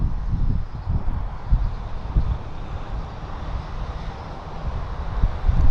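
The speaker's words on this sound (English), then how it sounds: "There's the Q400 already airborne." A Q400 turboprop climbs out after takeoff at Vancouver airport, a steady broadband engine rumble with low-frequency roar, heard from a distance and fairly constant throughout.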